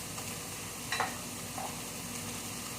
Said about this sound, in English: Okay, so our rice is also cooking.